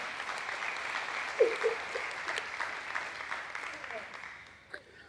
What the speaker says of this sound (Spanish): Le da un aplauso a él.